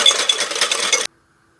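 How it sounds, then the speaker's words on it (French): Eggs and sugar are beaten in a bowl, a close, continuous scraping whisking with light clinks for about a second before cutting off to silence. "On va commencer par battre nos œufs. On va ajouter le sucre."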